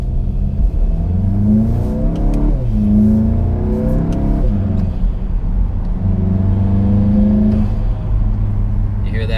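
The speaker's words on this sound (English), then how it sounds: "let me just do a little bit of an acceleration and see if you can hear it" A car fitted with an Integrated Engineering cold air intake accelerates on a side road, engine note rising through several gear pulls with intake whoosh, heard loud from inside the cabin.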